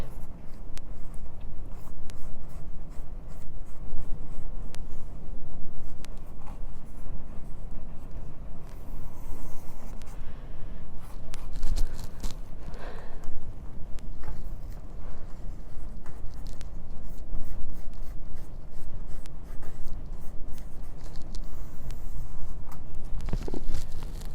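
A pencil sketching lines on paper in a steady scratchy rhythm, soft and close, with brief pauses and a few light taps between strokes while filling in a drawing of trees.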